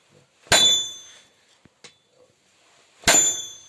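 A hammer strikes a Yakut (Sakha) knife blade while its fuller is being forged. Two loud, ringing metallic clangs land a few seconds apart, with faint small taps in between.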